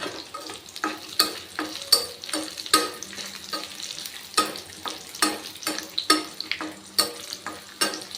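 Dried red chillies and tamarind sautéing in a pan for garlic chutney, with steady sizzling and repeated scraping stirs at a quick, uneven rhythm, close and moderately loud, with no talking.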